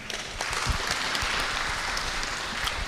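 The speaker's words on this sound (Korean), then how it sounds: "다시 한번 이상우 대표에게 박수 한번 주시기 바랍니다." Applause from the attendees at a redevelopment district association's extraordinary general meeting, a fairly quiet but steady wash of many hands clapping through the short moment.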